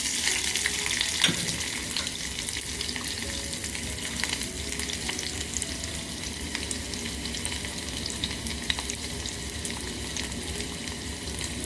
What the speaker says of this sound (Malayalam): എണ്ണ ചൂടായി നമുക്ക് 1/2 സ്പൂൺ കടുക് ഇട്ട് കൊടുക്കാം. ഇനി നമുക്ക് അരിഞ്ഞ് വെച്ച ചെറിയ ഉള്ളി ഇട്ട് കൊടുക്കാം